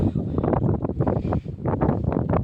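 A strong, cold wind sweeps across a hilltop and buffets the microphone with continuous loud, low rumbling gusts that swell and dip unevenly, and no voices can be made out.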